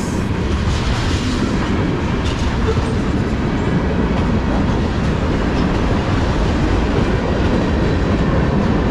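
A heavy CSX freight train of 204 cars rumbles past continuously at close range, picking up speed, with steady low roar and faint rhythmic clatter of wheels on track throughout.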